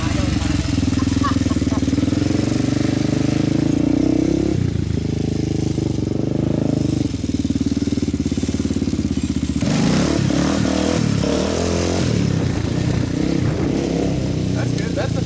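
A four-wheeler ATV engine revs hard and steadily as a beginner tries wheelies in a yard, loud and close, with throttle surges and dips throughout.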